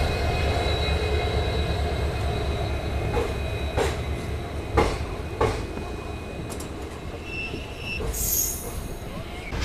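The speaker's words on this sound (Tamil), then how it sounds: "நம்மளோட ட்ரெயினை யஷ்வந்த்பூர்லேருந்து எடுத்து மூவ் ஆகி போயிட்டுருக்கோங்க" The Yesvantpur to Vasco Express pulls out of Yesvantpur station in Bangalore, bound for Goa, with a steady low rumble, sharp wheel squeals and several distinct clanks of the coaches as it gets moving.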